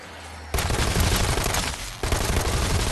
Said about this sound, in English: And then shoot it with my electrified gun?